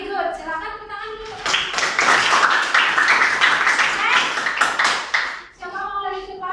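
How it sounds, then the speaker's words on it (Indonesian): Children in a classroom clap together in a burst of applause lasting several seconds, with a teacher's voice heard before and after it. "Silakan tepuk tangan dulu."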